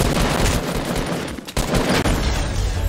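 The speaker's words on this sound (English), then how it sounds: "This is a machine gun." Machine gun fire in the Fortnite video game, dense and continuous bursts filling the whole stretch at high volume, with brief dips near the middle.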